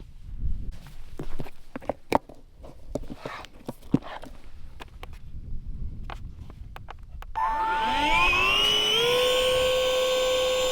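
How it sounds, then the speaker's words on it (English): An electric pump spins up with a rising whine and then holds a steady, loud hum as it inflates a paddleboard out in the Florida Everglades, following several seconds of scattered knocks and rustling. "So let's blow up the paddleboard."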